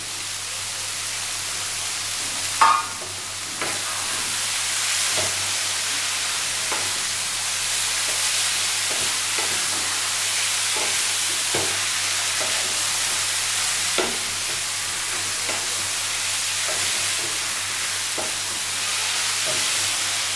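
Chopped coriander leaves are stirred into matar keema frying in a pan, a constant hissing sizzle with soft periodic scraping strokes of the spoon and one brief knock early on, close and steady.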